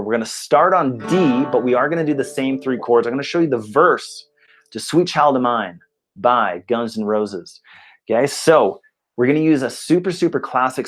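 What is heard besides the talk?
None of the usual background noises is heard.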